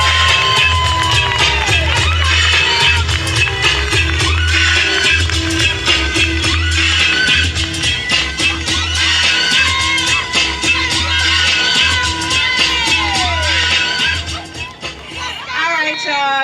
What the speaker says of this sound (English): make some noise for our next congressperson, Shontel Brown.